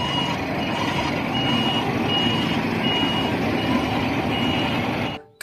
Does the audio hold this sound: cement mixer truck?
yes